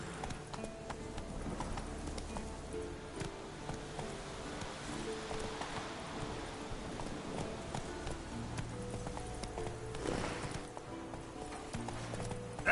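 A horse gallops in The Witcher 3 video game, steady rhythmic hoofbeats pounding throughout under a faint rain-like backdrop and low game music.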